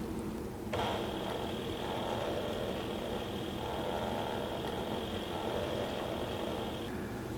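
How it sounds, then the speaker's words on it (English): A Mini Sailrite walking foot sewing machine runs in reverse to stitch a back tack, a steady whirring motor with a high whine starting abruptly and stopping near the end. "Let's hit the reverse and we'll try a little back tack."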